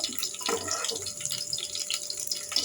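Dissolved tamarind water poured into a pan while making rasam, a steady light splashing trickle that runs throughout, close and fairly soft.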